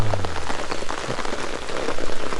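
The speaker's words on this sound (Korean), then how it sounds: "또 비가 오기 시작합니다" Rain falling steadily outdoors at a fishing spot, a dense, close patter of drops striking surfaces with a constant hiss throughout.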